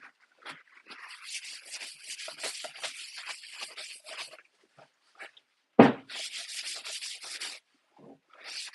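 A cloth wipes Rubio Monocoat oil finish off a wooden surface in close, soft rubbing strokes, with bursts of scrubbing broken by short pauses and one sharp knock midway.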